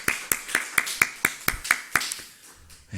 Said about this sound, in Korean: 힘찬 감사의 박수, 격려의 박수를 드리도록 하겠습니다.